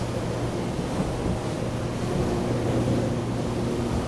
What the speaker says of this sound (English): No problem whatsoever turning the boat.